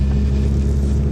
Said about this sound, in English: Yeah, this car pulls a little bit better than before.